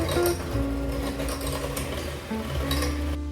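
Eggs and vanilla extract being whisked into brownie batter produce a continuous close whirring with a rattling, motor-like hum, steady from start to finish with only brief dips near the end.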